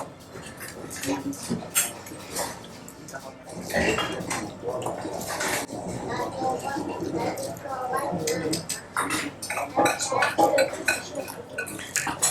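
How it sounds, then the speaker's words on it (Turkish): Lavash bread is torn into a bowl at a crowded eatery in Tabriz, Iran. Soft tearing and crackling sounds mix with clinks of cutlery and dishes and background chatter throughout. "Bu lavaşları önce böyle bu kaseye doğruyorsunuz."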